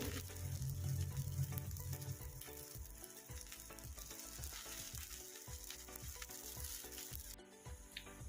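Bhagar dhirde frying in oil in a kadai, a steady close sizzle that runs throughout with faint scraping and stirring noises underneath.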